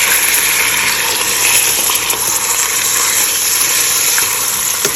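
Loud, continuous sizzling of mutton hitting hot oil with browned fried onions and garlic-ginger paste for aloo gosht, a dense steady crackle with faint stirring and no speech.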